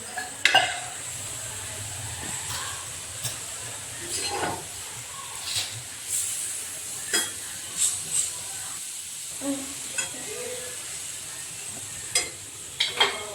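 A clay pot roasts on a stove while tea is made in it, with a steady hiss and sizzle running throughout and repeated light clinks and scrapes as the pot is turned; no talking.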